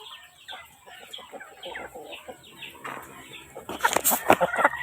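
Chickens cluck and squawk in a busy, continuous jumble, growing louder and more agitated near the end, with a steady background hiss.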